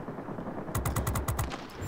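Rapid bursts of 20mm cannon fire from a J 21RB fighter in World of Warplanes, a sharp rattling volley of about ten shots after a stretch of engine drone, loud and close.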